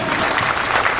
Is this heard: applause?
yes